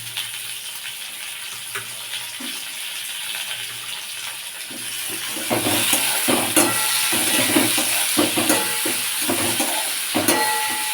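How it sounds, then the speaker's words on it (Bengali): Chopped tomato added to a hot frying pan, a steady sizzle that swells louder partway through, broken by repeated scraping and clattering strokes of a stirring spoon close by, with no talk. "এইবারে আমি দিয়ে দিচ্ছি টমেটো কুচিটা"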